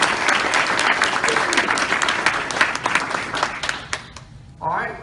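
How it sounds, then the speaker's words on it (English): Banquet guests at a Wayne County, Georgia Teacher of the Year event applaud the organizers, a full round of clapping that dies away near the end before a voice starts. "So let's give them a round of applause."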